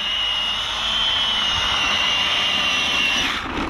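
An Arrma Felony RC car screams at full throttle while drifting, a loud, sustained high-pitched electric motor whine holding steady for a few seconds before tailing off.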